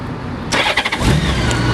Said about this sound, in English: I'm gonna go ahead and start this bike.